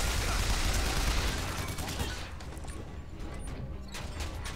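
A grenade blast in BioShock Infinite erupts loudly at the start, a dense crashing roar with scattered debris and gunfire-like clatter that slowly decays, with faint speech underneath.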